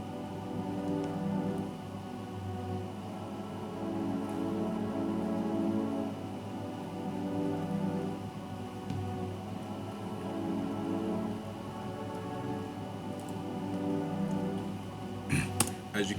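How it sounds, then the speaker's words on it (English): Omnisphere synth layered with a Cthulhu chord preset, sustained, dense chord tones holding steadily, with soft rhythmic swells and a few sharp clicks near the end. "this is what I have for the Omnisphere sound mixed with the Cthulhu preset"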